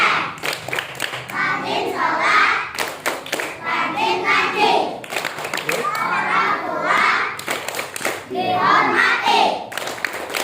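Children chant 'Tepuk anak soleh' together with rhythmic group hand clapping in repeated bursts, loud and close, voices and claps interleaved in a lively classroom-style call.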